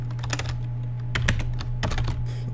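Computer keyboard typing while writing C++ code for GameMaker Studio, a few quick bursts of close keystrokes over a steady low electrical hum, with no voice.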